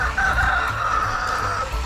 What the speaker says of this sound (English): the chickens, so they're calling each other in